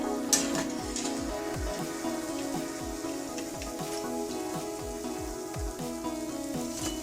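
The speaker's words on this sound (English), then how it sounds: "Same way I'll fry the remaining pakoras as well" Onion pakoras deep frying in hot oil give a steady, even sizzle and crackle that runs the whole time, with faint popping bursts and no voices.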